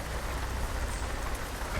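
Steady rain in American Truck Simulator, a dense continuous hiss of drops on surfaces around a parked truck with a Caterpillar 3406E engine idling, heard alone with no voices.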